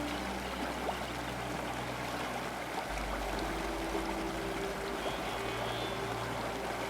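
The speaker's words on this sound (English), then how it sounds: "streams of gushing water sparkle in the bright sunshine" Gushing streams of water in Ifrane National Park, Morocco, a steady dense outdoor rush filling the whole clip at an even level.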